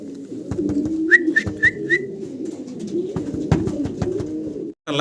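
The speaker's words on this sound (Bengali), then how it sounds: "একজোড়া ব্ল্যাক এক্সিবিশন কবুতর দেখেন চমৎকার" A pair of black exhibition pigeons coo in low, rolling phrases close by, with a few short whistling notes early on and no talk.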